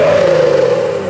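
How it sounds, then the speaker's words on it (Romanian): A BMW car's exhaust roars loudly and close up as the engine revs, a sustained throaty drone lasting about a second. "Fiți atenți cum se aude evacuarea."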